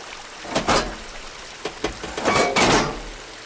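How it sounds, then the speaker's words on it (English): Water leaking from a pipe in the Horizon Forbidden West video game, heard as several splashing, gushing bursts that rise and fall over a low steady background. "The water is still leaking."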